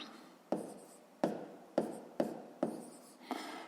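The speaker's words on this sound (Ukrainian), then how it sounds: "Три числа пишемо" Pen or pencil writing numbers by hand on paper during a fifth-grade maths exercise: six distinct scratchy stroke bursts spaced about half a second apart, close and fairly quiet, with no voices.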